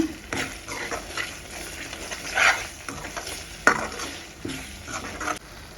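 Spoon stirring onion chili paste in a hot cooking pan: quiet scraping and soft sizzling with a few clinks of utensil against metal, irregular and close, no voices.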